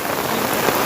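Steady rain pours during a monsoon downpour, a dense even hiss of drops striking surfaces close by, with no voices.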